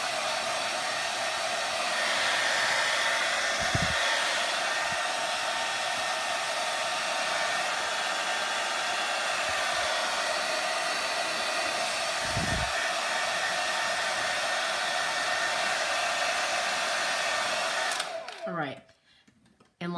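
A hair dryer on its cool setting blows steadily over fresh milk paint, a loud, continuous whoosh that runs unbroken for about eighteen seconds, with a couple of faint low knocks, before it cuts off abruptly near the end.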